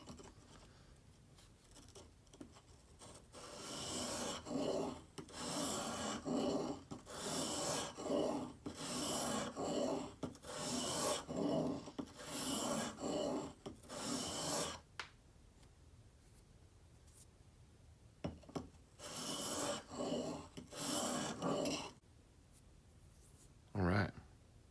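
A chisel held in a honing jig is pushed back and forth across sharpening stones, giving repeated rasping strokes in bursts with short pauses between them, close and fairly loud.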